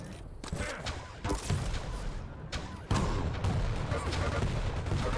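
Rockets fire and burst in a video game duel, loud repeated blasts and thuds piling up in a dense barrage, with a commentator's voice talking over them.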